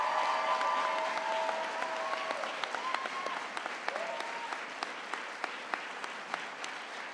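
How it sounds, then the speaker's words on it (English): An audience at a graduation-style ceremony breaks into sustained applause, many hands clapping steadily, with voices and faint cheers mixed in early on. "So, if 2 rounds of applause aren't enough"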